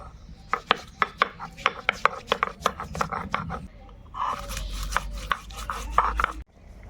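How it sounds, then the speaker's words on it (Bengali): Fresh ginger rubbed against a grater for khichuri, a run of quick, close scraping strokes in an uneven rhythm, followed by a denser rasping stretch with a low rumble beneath. "কেটে রাখা আদাগুলো আমি রেটে নেব"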